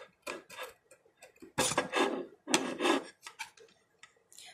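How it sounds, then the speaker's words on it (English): Dried glue gets scraped off a craft item in close, rasping strokes, with short scratchy bursts and a couple of longer, louder scrapes. "Let me see if I can just scrape it off."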